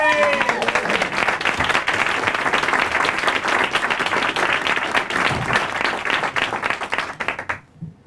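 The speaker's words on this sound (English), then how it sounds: "Please make them welcome a gigantic round of applause for Megan and Susan Murphy!" A Magic Castle audience gives a magic act a big round of applause, dense sustained clapping that stays loud and even before fading out at the end, with voices briefly heard over the start.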